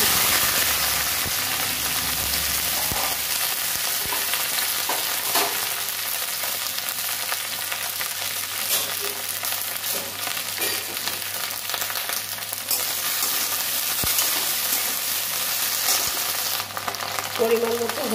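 Okra (bhindi) sizzling in hot oil in a pan, a steady close frying hiss that runs throughout with occasional stirring scrapes.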